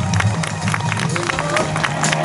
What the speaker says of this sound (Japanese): 大きな拍手じゃ。